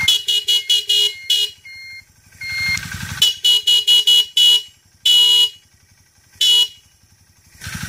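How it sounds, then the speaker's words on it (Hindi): A motorcycle horn powered by four capacitors in place of a dead battery blares in short, rapid honks and longer held blasts with pauses between, loud and close, alongside a faint low engine rumble. "अब मैं आपको इसका हॉर्न सुना देता हूँ।"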